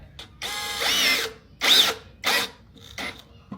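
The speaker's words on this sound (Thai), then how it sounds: "พี่ก็จะเจาะเลยใช้น็อตสกูเจาะเลย" A power drill driving a screw into wood while building a stand from PVC pipe, several loud close bursts of whirring motor separated by short pauses, with no talking.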